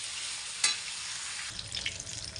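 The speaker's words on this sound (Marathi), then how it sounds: "तर आपल्याला कांदा हा तेलामध्ये असा मिक्स करून घ्यायचा आहे। सगळ्या कांद्याला तेल लागलं पाहिजे आणि हलकासा कांदा आपल्याला भाजायचा आहे।" Onions frying in oil for a paneer dish, a steady close sizzle with a sharp scrape of stirring partway through and livelier crackling afterward.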